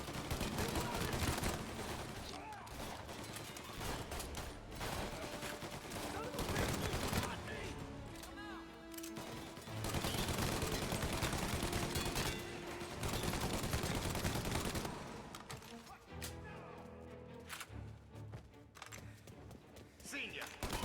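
Gunfire in a shooter video game comes in dense bursts and volleys over a busy mix of game sound and music, with voices talking over the action throughout.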